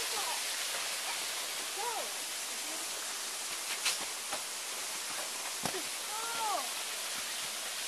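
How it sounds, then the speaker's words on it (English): Steady broadband roar of a waterfall fills the whole clip, loud and constant, while children's voices and brief shouts rise over it. "Let's see the waterfall."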